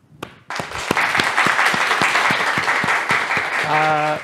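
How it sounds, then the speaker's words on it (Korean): Lecture audience bursting into loud applause to welcome a university professor, starting abruptly after a brief pause and holding steady with a few strong rhythmic claps standing out, before a voice begins at the end. "큰 박수로 환영해 주시면 감사하겠습니다"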